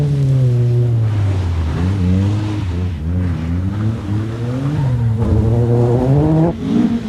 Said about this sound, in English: watch that old McRae magic in these two hairpins as he guides the BSS Sapphire round with the aid of the handbrake